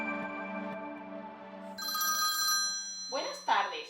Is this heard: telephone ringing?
yes